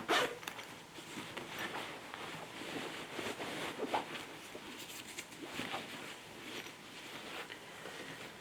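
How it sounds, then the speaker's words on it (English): A zipper on a fabric lunch bag is drawn open in quiet, close rasping pulls, with soft rustling of cloth between the strokes. "I think I'll unzip it and I can use the inside to kind of help me."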